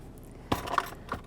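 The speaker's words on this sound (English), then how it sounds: "Let me get my seatbelt on." A seatbelt buckle clinks in a Range Rover Sport 3 SDV6 HSE. A sharp metallic latch click is followed by a couple of lighter jingles from the belt hardware, close by and with no talk.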